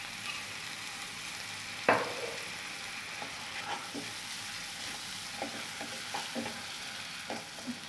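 Shrimp curry masala with coconut milk sizzles steadily in a pan, with one sharp spatula knock early on followed by a string of soft, irregular stirring taps at moderate distance, no talking.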